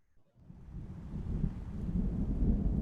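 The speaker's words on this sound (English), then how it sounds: "Rolling thunder sound effects I can do." Distant rolling thunder on a calm day, a low continuous rumble that swells gradually and keeps building in loudness across a few seconds, with no voices over it.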